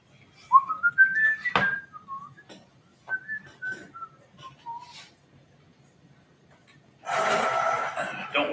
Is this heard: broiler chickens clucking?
no